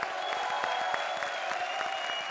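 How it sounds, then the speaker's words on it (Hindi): Studio audience applause on an Indian comedy show, dense clapping from a crowd with a faint steady tone underneath, even and sustained at moderate loudness without speech. "जोरदार तालियां एक बार फिर हमारी सारी जोड़ियों के लिए"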